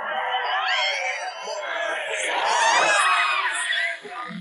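Excited crowd cheering and whooping at a street dance show, a dense, loud wall of shouts and screams that swells toward the middle and dips briefly near the end.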